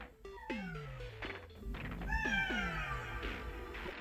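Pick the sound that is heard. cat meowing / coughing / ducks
cat meowing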